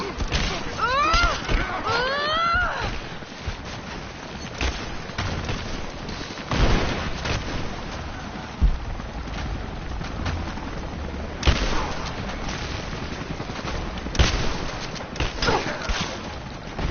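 Gunfire in Rise of the Tomb Raider crackles in repeated bursts and single shots over a steady battle din, with game voices calling out in between.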